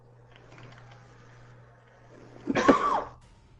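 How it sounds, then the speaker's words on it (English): A single short dry cough bursts out near the end after quiet background clicks and a low hum, close to the microphone. "I got like this dry cough."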